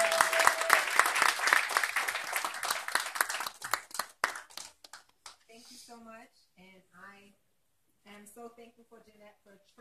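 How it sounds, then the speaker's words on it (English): Applause and hand clapping break out for an honoree at a precinct clergy council fellowship dinner, dense for about four seconds before thinning into scattered claps as a person begins speaking. "Miss Rayshawn Horry, let's give her a hand clap."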